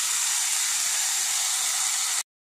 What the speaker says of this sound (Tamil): சின்ன வெங்காயம் போட்டுட்டோம்